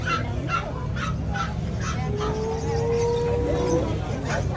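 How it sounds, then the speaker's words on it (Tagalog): Dogs at a busy Bocaue market day bark in repeated short yips amid crowd noise and talk, with a fowl-like honk or squawk rising in the middle. "Puro pala aso dito eh."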